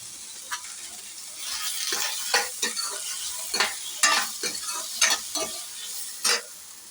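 Tomatoes and ridge gourd being sautéed in a pan for kulambu, with a continuous sizzle under repeated spoon-stirring scrapes, close and moderately loud.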